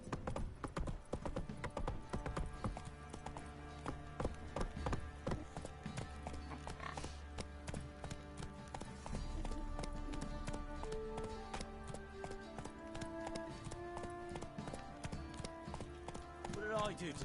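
The horse Roach gallops in a video game with rapid, continuous clopping hooves, heard over a music bed while someone speaks briefly.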